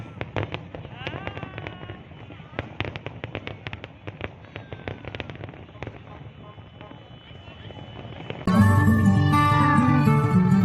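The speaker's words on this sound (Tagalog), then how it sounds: "Fireworks." Fireworks burst in a rapid crackling string of sharp pops over the Corniche, then a dense, loud volley takes over near the end, with voices audible throughout.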